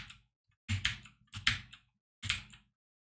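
Keyboard shortcuts tapped on a Dvorak-layout computer keyboard during a coding session, with several short clustered bursts of clicks separated by silent pauses, close and fairly quiet.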